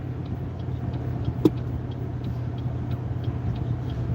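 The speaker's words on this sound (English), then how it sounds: "There's a car behind us" Steady low engine hum from inside a learner's car with another car following behind, a quiet continuous drone broken by one brief sharp knock.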